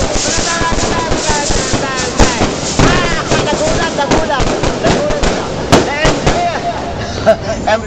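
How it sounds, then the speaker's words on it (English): Fireworks and firecrackers go off at a street parade, a dense, continuous crackle of pops and sharper bangs under a loud crowd and voices. "Nakakagulat naman yung mga fireworks natin."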